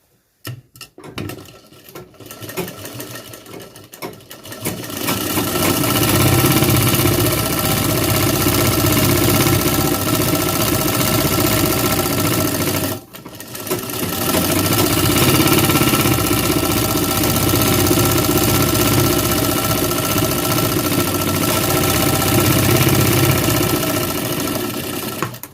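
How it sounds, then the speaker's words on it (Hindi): A tailor's sewing machine stitches an elastic strip, starting with a few uneven clicks before settling into a loud continuous mechanical run, pausing briefly midway and then running steadily again to the end. "फिर ऊपर से लब की सिलाई मार देंगे।"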